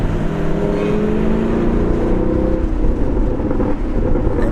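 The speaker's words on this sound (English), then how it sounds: "Hey, my car sounds good." A Chevrolet Camaro SS 1LE burbles its exhaust while driving, a loud, close, steady low rumble with a rising then easing engine tone, continuous with no talking over it.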